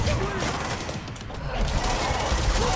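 Dense, continuous enemy gunfire from a Control AWE boss fight, rapid overlapping shots filling the whole stretch at steady loudness with no pauses, with faint game voice sounds mixed in.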